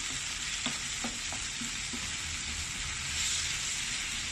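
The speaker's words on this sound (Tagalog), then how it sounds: "halu-haluin lang natin hanggang lumabas yung aroma ng tomato paste" Tomato paste sizzles steadily as it fries in a pan, with a few soft scrapes and taps of a stirring spoon early on, close and continuous with no talking.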